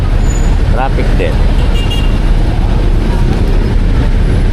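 Busy Philippine road traffic, with a steady loud roar of engines and road noise and a short car horn toot near the start, a few faint voices mixed in.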